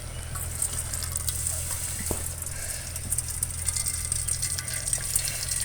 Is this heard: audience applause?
no